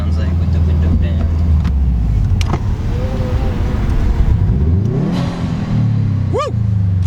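A Stage 2 tuned Subaru WRX accelerates hard while the window is down. The engine roar is loud and steady and rises in pitch through the gears. Voices can be heard under the engine noise.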